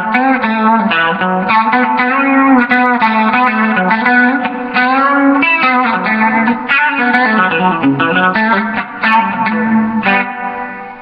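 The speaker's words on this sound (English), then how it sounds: "Now I'm going to go to flanger." Electric guitar played through the flanger effect of a Marshall MG30CFX amp, sustained chords and notes with a sweeping, swirling tone, loud and continuous with no talking.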